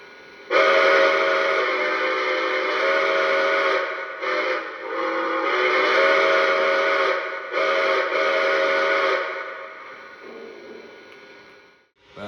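A loud, sustained steam locomotive whistle from a Lionel Legacy Greenbrier model locomotive, a chord of several tones blowing steadily with brief dips and breaks before fading out.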